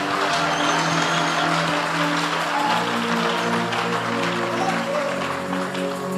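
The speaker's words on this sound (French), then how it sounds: "Acclame pour le maire interprète de la ville." A church congregation applauding in a steady, dense wash of clapping, loud and sustained throughout, with faint tonal sound underneath.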